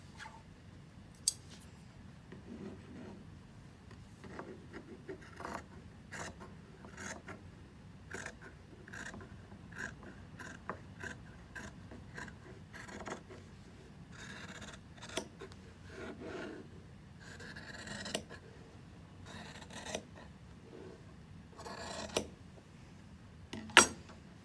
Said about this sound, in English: Now you're going to cut along this line.